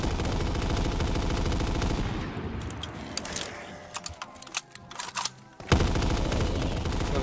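Rapid machine gun fire in a Black Ops 3 custom zombies match on a Minecraft-style sand islands map, loud dense bursts that thin into scattered shots before a sharp return to sustained fire.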